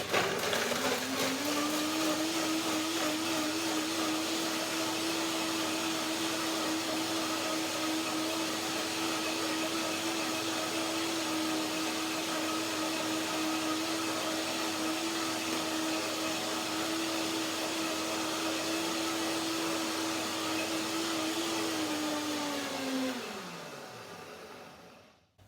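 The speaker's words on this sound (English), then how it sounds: "So first blending is only with the rosemary and the other ingredients with a little bit of water." A kitchen blender runs steadily for about twenty-three seconds, grinding rosemary, macadamia nuts and a little water with a loud, even motor whir, then winds down and stops near the end.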